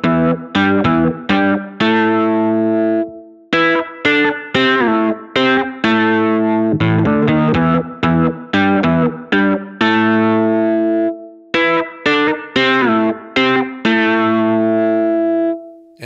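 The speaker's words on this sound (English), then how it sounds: "deep and rich sounding monophonic synth sounds" A deep, rich C4 Synth FM preset with a metallic tone plays a lively monophonic line of short, punchy notes in a steady rhythm, with brief pauses between phrases.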